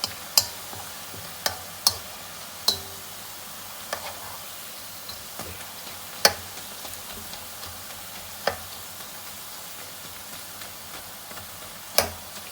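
Bhalla dumplings deep fry in hot oil toward golden brown, a soft continuous bubbling hiss punctuated by sharp, irregular spoon clicks against the pan, with no voices.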